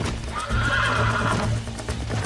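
Horses in a Western film setting neigh and whinny close by while hooves clip-clop steadily underneath, with no talking.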